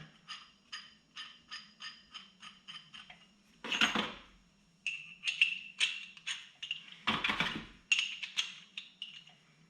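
A wheel puller works on the steering wheel of a Kubota M7060 tractor, giving rapid rhythmic metallic clicks in short runs, broken by two louder grinding bursts, all close and fairly quiet.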